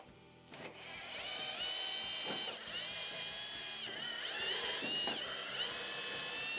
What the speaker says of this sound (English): we're going to start by removing the screws to remove our covers